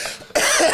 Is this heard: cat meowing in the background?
no